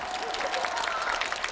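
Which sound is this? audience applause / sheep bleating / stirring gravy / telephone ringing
audience applause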